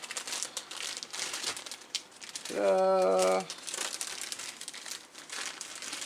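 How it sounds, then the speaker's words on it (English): A plastic baggie crinkles and rustles as a wideband controller, wiring harness and splice pack are packed back into it; dense, close crackling runs throughout, with a brief loud harmonic squeak in the middle. "Let me get it back in the baggie."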